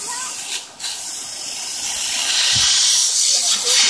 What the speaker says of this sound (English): the sprinklers are for watering the grass